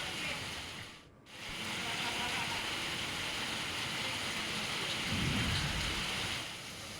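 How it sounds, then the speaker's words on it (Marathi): Rain falls steadily in Sangli during a downpour that floods a weekly market, a broad constant hiss with a low rumble like distant thunder near the end. "यवतमाळ, पुसद, महागाव, आर्णी या ठिकाणी पाऊस पडलाय"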